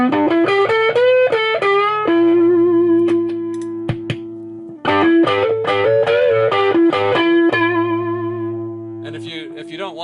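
Electric guitar through a Vox treble booster pedal with a bright, boosted tone plays short melodic phrases and sustained notes, ringing with slight grit and pausing between passages.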